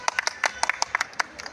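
An audience claps by hand, a quick scatter of sharp, uneven claps at low level over about a second and a half, with no voices.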